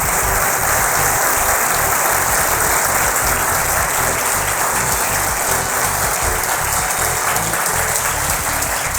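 A church congregation at an Urdu-Hindi Bible sermon claps loudly and continuously, a dense, even wash of applause with no voices over it.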